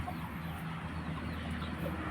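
Chickens of a bred rooster line cluck softly in a farmyard, with a few short calls rising over a constant murmur of background noise and distant birds.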